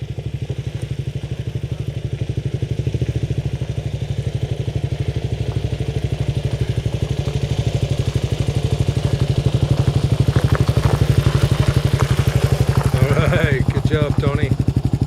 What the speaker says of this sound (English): I hear KLR motor.